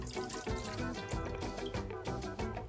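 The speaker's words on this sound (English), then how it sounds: "We're gonna start off with some orange juice." Orange juice pours into a bowl for a brine, splashing and gurgling in an uneven stream, close and fairly quiet with no talking.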